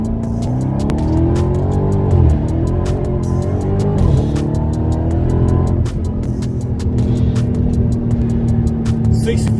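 A Dodge Charger Redeye launches under launch control, its engine note rising in short surges through quick gear changes, then settling into a steady drone.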